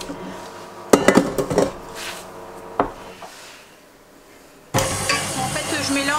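Egg and milk batter being mixed in a bowl with a whisk, clattering utensil strikes against the bowl in a quick cluster, then a quieter lull, followed by a steady scraping swirl.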